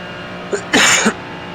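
A single sharp sneeze bursts out briefly and loudly after a short intake of breath, close to the microphone during an iRacing sim-racing session with a quiet background hum.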